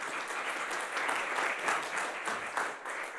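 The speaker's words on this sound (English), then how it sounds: "Please applaud." Seminar audience at a data science event on sustainable mobility applauding, a steady, moderately quiet wash of many hands clapping throughout.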